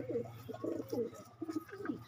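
Soft, throaty cooing from domestic pigeons in a breeding setup with red, lilac and black breeds, a few low pulsing coos in quick succession, close by and fairly quiet.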